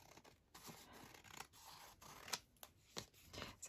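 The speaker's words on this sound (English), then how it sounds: "So I'll just trim this off." Scissors snip and trim paper for decorated journal pages, a series of close, crisp cuts in an irregular rhythm with soft rustling between them, no talking.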